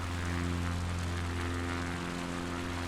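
Steady propeller-plane engine drone in Microsoft Flight Simulator during a Patagonia bush flight, a continuous even hum with strong low tonal layers and no talking.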